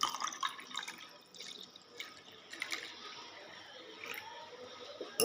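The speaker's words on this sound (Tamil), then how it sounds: "ஒரு கப்பு தண்ணி எடுத்துக்கணும், அதை ஊற்றிக்கணும்" A cup of water is poured out in the kitchen, with splashing, trickling and dripping close by that rise and fall over several seconds. It is fairly quiet and no one speaks.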